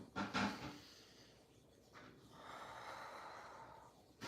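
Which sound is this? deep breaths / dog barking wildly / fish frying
deep breaths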